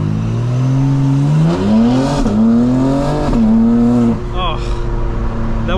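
A 2025 BMW M4 Competition xDrive launches hard, its engine rising in repeated revving sweeps through quick upshifts, loud and close, with brief tire noise near the end.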